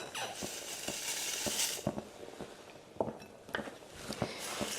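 A pot of hearty bean, kale and sausage soup with potatoes and cannellini beans being stirred, a spoon clinking softly against the pot in a steady rhythm over a faint simmering hiss.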